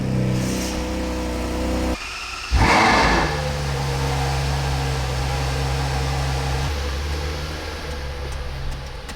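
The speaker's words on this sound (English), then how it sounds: "Just gonna move the Ferrari out the way." A Ferrari's engine idles steadily nearby as the car is moved, a constant low hum with a brief louder burst around the middle, no talking.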